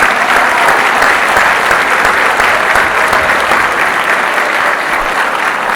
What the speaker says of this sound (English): let's give one final round of applause for all those students